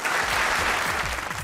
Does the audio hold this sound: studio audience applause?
yes